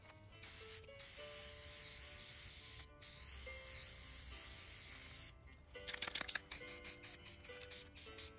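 A spray can coats a wooden corbel in black paint, giving bursts of steady hiss with short pauses and a rattling shake of the can, faint and close, with no talking.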